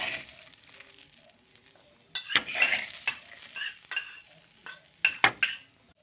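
Beaten egg is stirred into rice in a pan with no oil. Quiet scraping and stirring come in short bursts with soft sizzling and light clinks of the utensil against the pan.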